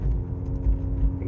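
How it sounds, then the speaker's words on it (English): Car with a loud exhaust leak driving, a steady low rumbling drone with deep throbbing pulses, close and continuous throughout with no talking. "The hole in this exhaust is so loud, it's stupid."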